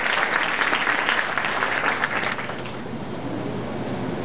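Audience applause fills a hall at a 2005 technical college graduation ceremony in Cajazeiras, loud dense clapping at first that thins and softens toward the end.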